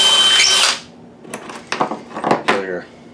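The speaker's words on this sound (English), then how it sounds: "Drill your second one into place." A power drill drives a screw into a bench plate with a brief loud whir, followed by clattering handling sounds and a voice talking.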